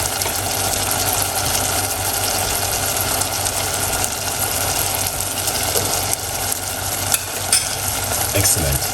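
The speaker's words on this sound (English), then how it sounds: "So I'm going to put, that's the mackerel inside." Mackerel frying in a pan for a sugar-free dinner, giving a steady, close sizzle that crackles evenly the whole time with no talking over it.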